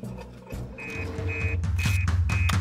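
A cartoon alarm from a Fireman Sam episode repeats as short high beeps in a regular pattern over a rhythmic pulsing backdrop that grows louder.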